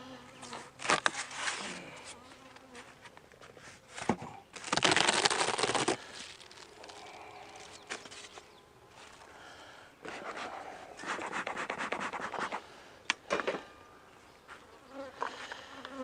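Honeybees buzz around an open hive during requeening, with individual bees zipping loudly past up close in repeated bursts over a quieter background hum.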